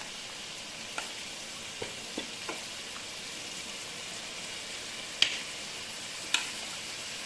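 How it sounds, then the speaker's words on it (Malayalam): Chicken pieces for butter chicken frying in a hot pan, a steady soft sizzle running throughout with a few sharp crackles and pops, no voices. "ഈ ചിക്കൻ മൊത്തം ഇങ്ങനെ നമുക്കൊന്ന് ചെറുതായിട്ടൊന്ന് വേവിച്ചെടുക്കാം"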